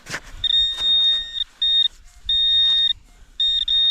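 A metal detector sounds a high, pure signal tone in four sustained beeps of uneven length, separated by short gaps and faint scraping, close and clear.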